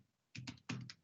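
A few quick keystrokes tapped on a computer keyboard, close and quiet, in two short bursts of clicks.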